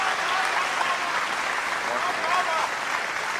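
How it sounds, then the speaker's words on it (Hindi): Audience applause fills a mushaira poetry gathering in Dubai, a steady dense wash of clapping that holds at even loudness throughout, with faint voices mingled in the crowd noise. "भाई तालियां कम थी।"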